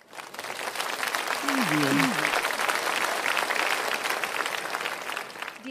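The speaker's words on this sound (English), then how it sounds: "stage our musicians with a big round of applause" A school audience applauds the musicians at a cultural day performance, dense steady clapping filling the hall throughout, with a short spoken thanks over it early on.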